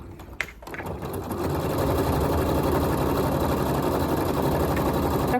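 Sewing machine running steadily as it stitches a 1 cm seam on a belt, loud and continuous after a brief start-up, with no speech.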